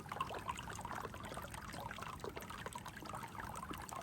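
Water trickles through a gold sluice outdoors, a faint, continuous wash and dribble of flowing water with no talk.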